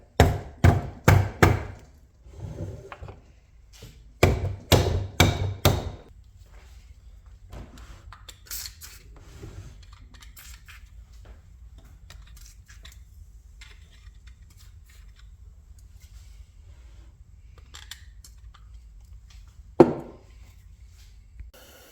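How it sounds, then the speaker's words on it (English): A mallet taps on a Polaris 350L engine case to loosen it, making two bursts of sharp, hard knocks in quick rhythm, each burst about four or five blows. A long quieter stretch follows, with one more single knock near the end. "Let's take our trusty mallet and just kinda loosen it all up around each side."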